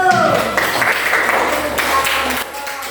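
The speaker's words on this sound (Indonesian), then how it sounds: "Tepuk tangan dulu" Students in a classroom clap together in a short burst of applause, steady and fairly close, with a voice or two heard briefly as it tapers off near the end.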